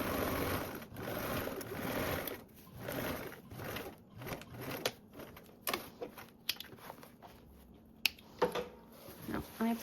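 Sewing machine stitching a 3/8 seam across a tote bag base runs in short bursts and stops, with faint handling noises between runs, close and fairly quiet.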